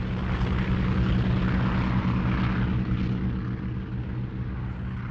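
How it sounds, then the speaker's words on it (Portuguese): Fighter aircraft flying over a battlefield during a 1950 air strike on Chinese troops: a steady, loud engine roar that holds throughout, broad and droning with a slight swell midway, and no voices. "Aviões de combate norte-americanos, australianos e britânicos jogam toneladas de napalm ou gasolina gelificada nos chineses."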